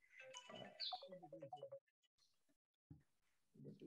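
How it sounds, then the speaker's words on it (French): A phone ringtone chirps with a burst of quick melodic tones, fairly close, then gives way to quiet gaps and a brief rustle. "Donc, son téléphone sonne."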